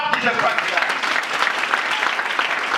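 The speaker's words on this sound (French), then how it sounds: "Acclame très fort." Congregation at a church healing service applauds in a dense, continuous burst of clapping lasting a few seconds, loud and close, with voices mixed in.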